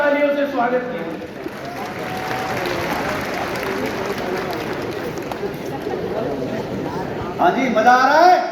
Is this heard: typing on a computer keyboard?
no